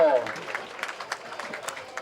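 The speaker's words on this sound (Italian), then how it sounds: "Un bel applauso" Light outdoor applause for an Italian junior hammer throw champion at a regional athletics meet, soft scattered claps following a brief voice at the start.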